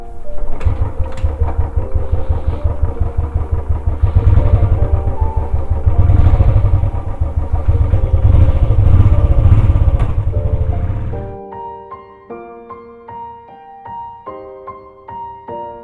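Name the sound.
motorcycle riding in Pune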